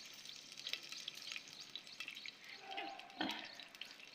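Cumin and mustard seeds crackle softly in hot oil in a clay pot, a faint, uneven sizzle with light pops and a single louder clink near the end.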